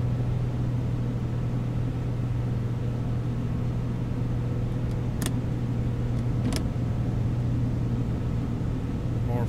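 Steady, loud aircraft engine drone in Microsoft Flight Simulator X as power is added on approach, with a continuous low hum and a couple of faint clicks.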